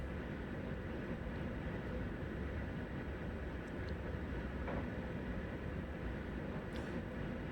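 Steady broadband rumble of a Class 91 electric train running in a train simulator game, a continuous moderate cab and track noise with no voices.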